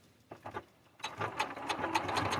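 A sewing machine stitching along a seam line: a few short bursts start it, then a steady rapid mechanical chatter runs continuously at close range without talk.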